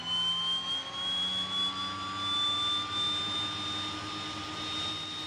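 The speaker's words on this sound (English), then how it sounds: "She's starting both of my engines." DHC-6 Twin Otter turboprop engine starting up in a flight simulator, a steady loud whine with slowly rising tones over a constant rumble, no talking.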